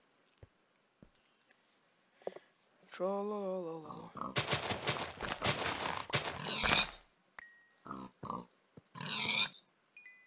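Pigs in the Minecraft video game grunt and oink in short bursts, with a louder cluster of squeals and snorts in the middle and scattered game sounds around them.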